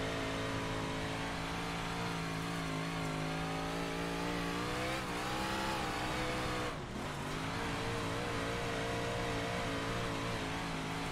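Big block modified race car engine in iRacing, a loud sustained roar with rising and shifting harmonic pitch, a brief dip near the end as revs drop and pick back up, heard alone without talk.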